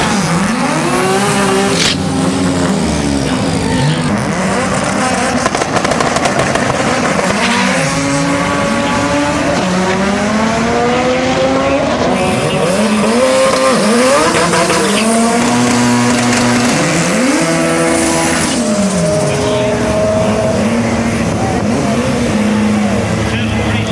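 A Turbo Taurus drag car racing at a Street Car Takeover event in Denver, engines roaring and revving hard through rising and falling gear changes, very loud and continuous, with a voice talking over the noise.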